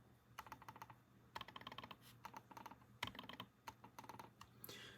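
Quiet rapid clicks of Kailh Silent mouse switches, soft muted taps in quick irregular bursts and clusters, close-up against a faint steady background hum.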